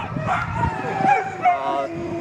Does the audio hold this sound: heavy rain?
no